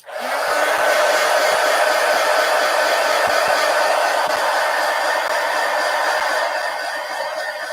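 Hair dryer drying paint on an art scroll, switching on abruptly and then running as a loud, steady close-up roar throughout, with a few faint thumps beneath it.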